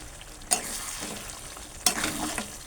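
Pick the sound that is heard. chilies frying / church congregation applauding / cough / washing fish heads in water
chilies frying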